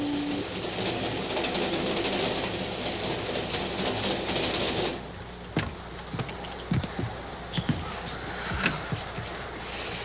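A steady rumbling clatter of a moving train fills the first half, then fades to a quieter interior hum with scattered knocks and clicks.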